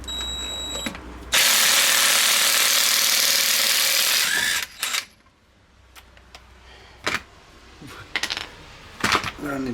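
A ratchet socket wrench working on a 2017 Ford Fusion near the wheel: a loud sustained rushing burst, then a quiet stretch with scattered sharp metallic clicks and clanks close by.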